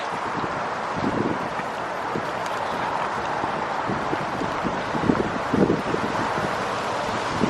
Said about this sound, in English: The wind is blowing crazy, bro.